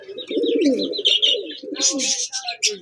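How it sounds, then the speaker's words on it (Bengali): Pigeons cooing at close range, a paired ringed bird kept for breeding and flying, with soft repeated coos overlapping brighter chirps. "অনেক সুন্দর মাশাআল্লাহ কবুতর"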